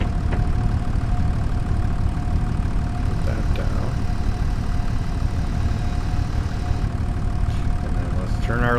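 An engine idles steadily in the farming video game Farming Simulator 25, a constant low rumble with faint clicks over it and no change in pace.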